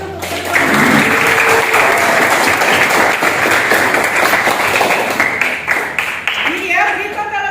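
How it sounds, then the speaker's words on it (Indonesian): Loud, dense applause from an audience in a room rises quickly and holds steady before tapering slightly, with a voice speaking over the tail end. "Oke, berikan tepuk tangan untuk"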